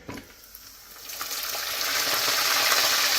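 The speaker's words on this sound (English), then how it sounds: "I hear a little bit of crackling" Strips of bacon fry in a pan with a steady, rising sizzle and scattered crackling pops, growing louder over a few seconds, with no talking.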